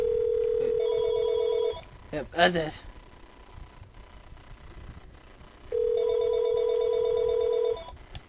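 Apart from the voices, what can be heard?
telephone ringing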